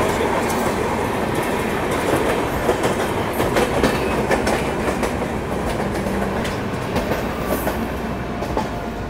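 A passing Indian express train, the Shivam Express on the Delhi to Patna line, crossing close by with loud continuous rumble and rhythmic clickety-clack of wheels over rail joints, heard from aboard another train.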